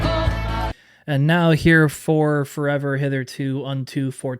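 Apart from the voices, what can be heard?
No everyday noise stands out behind the speech.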